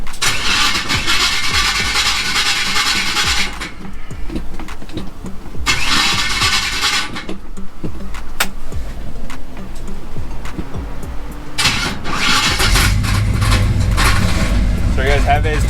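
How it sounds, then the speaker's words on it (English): A 1977 Chevrolet C10 pickup cranking and firing up without jumper cables, bursts of starter cranking separated by pauses before the engine catches and settles into a close, steady idle. "So you guys have it, it starts up just like that."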